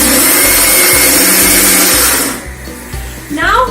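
A kitchen blender whirs loud and steady as it grinds thick coconut chutney, the motor holding one pitch for about two seconds before cutting out and leaving a short rattle.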